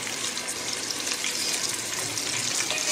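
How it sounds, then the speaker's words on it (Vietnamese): Pork belly skin frying in a pan over low heat, a dense steady sizzle with crackling pops, close and fairly quiet with nothing else heard. "mình chiên cho cái phần da này nó giòn trước ha"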